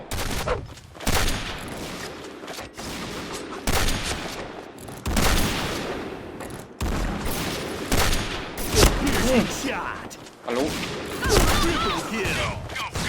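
Rapid bursts of M200 sniper rifle fire and other gunfire from the shooter game Point Blank, sharp loud shots repeating every second or so through a busy battle, with someone talking over them.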